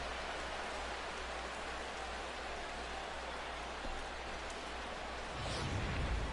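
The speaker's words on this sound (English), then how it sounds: "And Dan, when it comes to pitching in the rain, what changes?" Steady rain falls in a baseball video game, a soft, even hiss that runs unbroken and fairly faint throughout, with a slight swell near the end.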